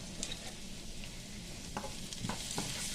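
Boiled mutton fries in a pan with cumin and turmeric, giving a soft continuous sizzle broken by a few scraping stirs, fairly quiet and close, with no talking.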